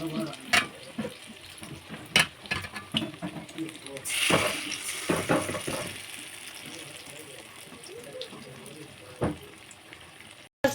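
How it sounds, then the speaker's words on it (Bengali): Eggplant slices coated in gram flour fry in a pan with a crackling sizzle that swells as pieces go in, with scattered clinks and scrapes of a utensil. "বেগুনটা কিন্তু একটু আমি বেসন দিয়ে ভাজছি।"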